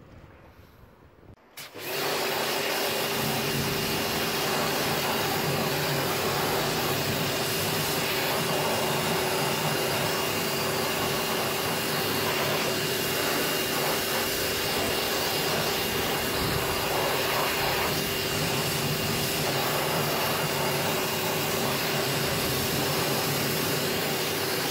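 A pressure washer starts after a brief quiet moment and then sprays continuously, a steady loud hiss and rumble as it rinses red brake dust off an alloy wheel, with no talking.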